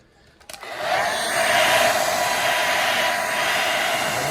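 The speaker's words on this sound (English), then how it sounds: "I'm going to take a hair dryer and just dry off just a little bit here" A steady, loud whooshing blower roar starts abruptly after a brief quiet moment and holds constant, a hair dryer running close by drying watercolor paint.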